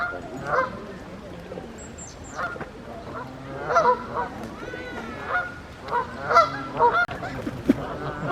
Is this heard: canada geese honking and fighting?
yes